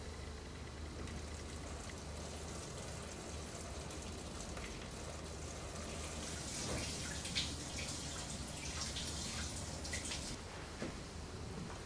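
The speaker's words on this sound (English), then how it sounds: "I'll be pouring the water in really slowly, which will help disperse the water and hopefully won't cloud too much" Water poured slowly through a colander into a Fluval Edge aquarium while aquascaping: a steady, close trickling and splashing that swells a little partway through, with no voices.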